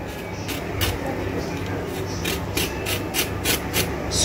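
Knife scraping around a cow foot to clean it for curry, a rapid series of short rasping strokes over a steady background hum, close and fairly loud.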